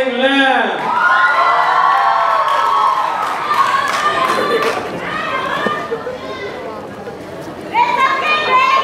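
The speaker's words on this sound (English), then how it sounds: "Let's give a round of applause one more time." A crowd of schoolchildren whoops and cheers loudly at a school singing contest, with shouts rising and falling over several seconds and voices mixed through the din.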